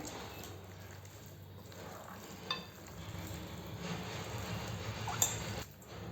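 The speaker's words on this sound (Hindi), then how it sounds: "इन सबको हम अच्छे से हाथों से मिला देंगे।" Chicken pieces are mixed by hand with flour and cornflour, giving soft, wet squishing and stirring sounds with a few light clinks against the bowl, close and continuous.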